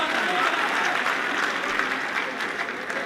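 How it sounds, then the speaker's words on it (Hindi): Audience applause at a Hindi-Urdu poetry recital, a dense, steady wash of many hands clapping that fills the whole stretch and tapers only slightly toward the end. "जोरदार तालियां साथियों, जोरदार तालियां।"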